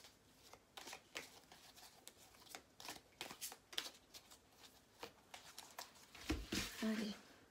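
Tarot cards are shuffled and dealt, giving a long run of quick, crisp riffling flicks and slaps close to the listener, with a quiet voice in the background.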